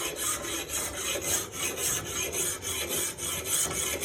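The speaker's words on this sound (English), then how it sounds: "you're going to take a bastard file and you're going to sharpen along the edge." A bastard file rasping along the edge of a lawn mower blade being sharpened, steady rhythmic strokes of about three per second, close and alone.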